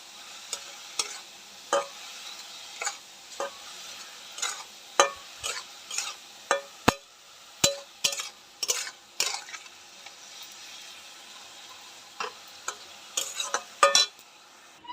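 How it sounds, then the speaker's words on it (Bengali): Red amaranth greens fry with garlic in a pan, a steady soft sizzle broken by a run of sharp clinks and scrapes from a utensil stirring against the metal, close by and with no voices. "এই যে লাল শাক হচ্ছে রসুন দিয়ে"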